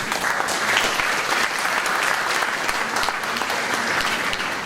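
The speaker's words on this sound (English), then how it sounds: "You must give a big clap to them." A hospital audience in Sibu gives a dense, steady round of clapping, loud and continuous throughout the short stretch with no one talking over it.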